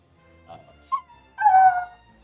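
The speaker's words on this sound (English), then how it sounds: "this dog needs to shut up" A dog whimpers and yips in a quiet room, with a couple of brief soft whines followed by a louder, drawn-out yelping cry.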